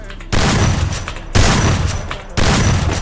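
Three long, heavy bursts of rapid automatic gunfire from a mobile shooter game each rattle for about a second, loud and close, with short pauses between them.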